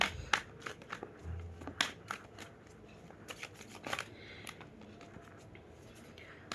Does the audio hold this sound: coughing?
no